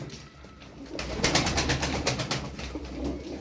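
Tumbler pigeons, a flock of about twelve play birds kept for sale, cooing nearby in soft repeated bursts over a steady low background rumble.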